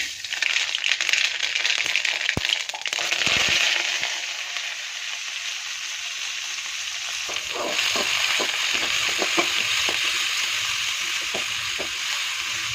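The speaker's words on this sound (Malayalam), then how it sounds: "കരിഞ്ഞു പോകാതെ വഴറ്റിയെടുക്കണം കേട്ടോ ഉള്ളി നന്നായിട്ട് മൂത്തിട്ടുണ്ട്" Onion with crushed garlic and ginger sautéing in hot oil after mustard seeds, for a ridge gourd and prawn thoran: a steady loud sizzle throughout, with a few sharp clicks early on and a run of light spatula taps toward the end.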